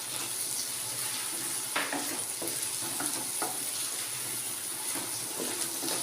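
Chopped ripe tomatoes hit hot oil while making a neymeen fish curry, a constant close sizzle broken by soft scraping knocks of a spoon stirring them in the pan.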